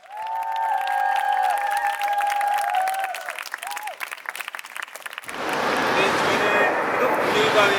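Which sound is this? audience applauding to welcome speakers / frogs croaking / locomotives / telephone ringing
audience applauding to welcome speakers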